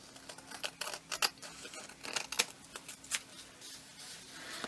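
Scissors trimming fabric for a small lunch bag pocket, giving a run of quiet, crisp snips in irregular bursts close up, with no talking.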